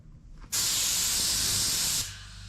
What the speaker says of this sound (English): Now this stuff right here actually sprays right out of the can.